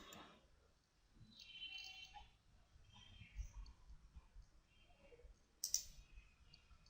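A single soft computer mouse click on a create button in SAP BW query designer software, faint and close over a quiet room hum, heard alone with no speech.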